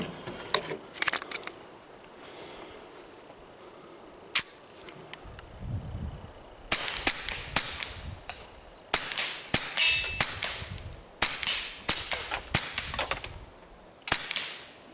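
Suppressed Walther PPQ .22LR pistol firing: sharp, snappy reports, a few early shots, then a faster string of evenly spaced cracks with metallic action clatter, close and fairly loud against quiet outdoor background.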